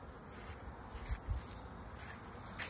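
Honeybees on cleansing flights outside their hive on a warm December day make a faint, continuous, even buzz, with no other sounds.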